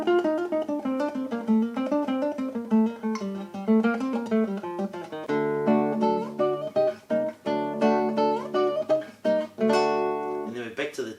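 Classical guitar plays a rapid scale passage from Albéniz's Sevilla, close and clear, with quick runs of plucked notes broken by strummed chords.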